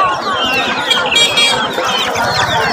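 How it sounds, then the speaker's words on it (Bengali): Chickens cluck and chatter densely at a poultry market in Bogura, close and loud, in a busy, overlapping flock sound. "6-7 প্রজাতির মুরগি আপনাদের দেখালাম"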